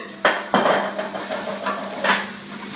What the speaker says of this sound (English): Just to cook the garlic and ginger out.